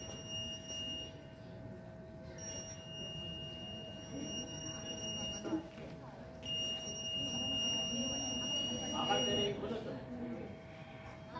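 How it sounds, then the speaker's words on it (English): An ultrasonic sensor obstacle alarm, a student science project, gives steady electronic beeping tones switching on and off in long intervals, fairly faint under background noise and voices. "When the ultrasonic sensor senses any obstacle in front of it, it starts beeping."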